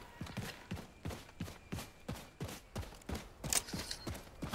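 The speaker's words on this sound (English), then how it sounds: "I'm sure I can hear horses or something of that sort here." Video game horses in Wolfenstein II: The New Colossus: steady, evenly spaced hoof clops, roughly two per second, with a faint creaking, mechanical undertone and a brief bright clink near the end.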